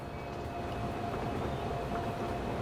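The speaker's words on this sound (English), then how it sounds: "Possibly the first modern train we've got on our network." A modern train on a rail network in the Transport Fever 2 video game gives off a steady, even rumble with a soft mechanical hum. It stays constant throughout, with no voices.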